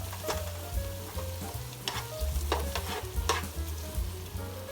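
Frozen peas cook in a pan of keto cauliflower fried rice: a close, constant sizzle broken by repeated scraping stirs and clattering spoon strokes, no talking.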